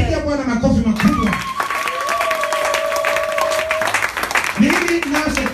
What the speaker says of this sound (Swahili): Piga Bwana makofi makubwa.